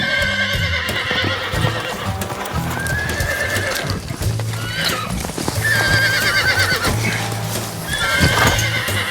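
Horse in training, whinnying loudly several times over steady hoof clip-clop and scuffling, close and prominent throughout.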